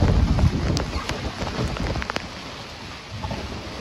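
Rain falls steadily on the deck of a boat tied up at a dock, a dense, loud hiss broken by sharp drops and taps, with rumbling gusts underneath.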